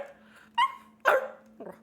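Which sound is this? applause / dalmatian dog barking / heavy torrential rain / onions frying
dalmatian dog barking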